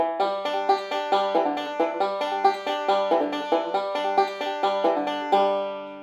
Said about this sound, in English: With the 16th note pull off, it would sound like this